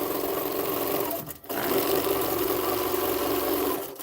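A Baby Lock Gallant XL long arm quilting machine runs with a loud, steady mechanical whir close by, cutting out for a moment before resuming its even hum.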